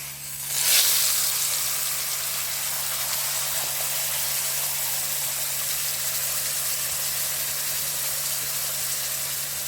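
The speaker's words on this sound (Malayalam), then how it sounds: "മസാല ഇട്ട് ഇതിന് പച്ച മണം മാറുന്ന വരെ നമ്മളൊന്ന് ഇളക്കി കൊടുക്കണം" Crushed masala dropped into hot coconut oil, a sharp burst of sizzle at the start settling into a steady hiss of frying while it is stirred.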